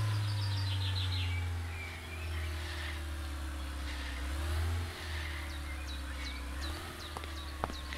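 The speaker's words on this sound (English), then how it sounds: "Got lots of traffic today." Steady engine drone of cars driving past in the video game Trader Life Simulator 2, a continuous low hum that swells and fades as vehicles pass, with faint insect-like chirps and small clicks above it.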